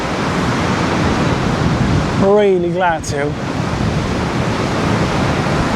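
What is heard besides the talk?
large waves crashing in extreme wind in Benidorm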